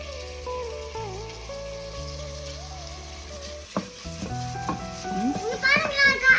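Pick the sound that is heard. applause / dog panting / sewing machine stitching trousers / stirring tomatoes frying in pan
stirring tomatoes frying in pan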